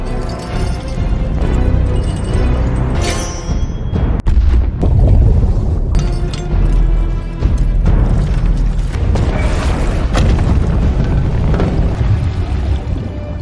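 Film scene where grenades are dropped into a lake and explode underwater: heavy, muffled booms and water surges ring out over a loud, dense cinematic soundtrack.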